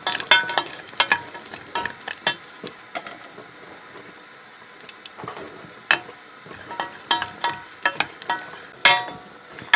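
Cashews frying in a pan over a low flame give off a steady, quiet sizzle. Irregular ticks and pops from the oil rise above it throughout, and no one speaks.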